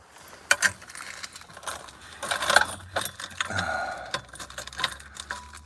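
Keys on an ambulance key ring rattle and click in scattered clusters as someone sorts through them, close by, with small metallic ticks between the louder jangles.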